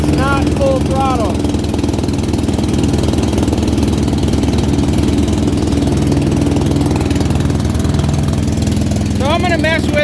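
A Dixie Chopper mower engine labors loudly and close by under load, a rough pulsing drone that sags and struggles, with a person talking over it at the start and near the end.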